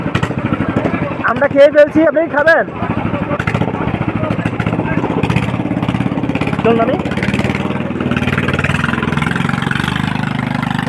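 A boat engine on a river runs with a steady mid-pitched droning chug that carries on throughout, while people talk loudly over it near the start.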